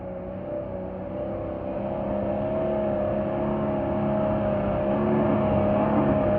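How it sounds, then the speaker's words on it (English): A vehicle engine revs hard and climbs steadily in pitch and loudness during a snowy outing, a sustained droning roar with no talking over it. "He's revving that thing so hard."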